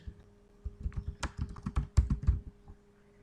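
Quick, irregular keystrokes clatter on a computer keyboard as a spreadsheet financial formula is entered, a dense burst of clicks over a low steady hum.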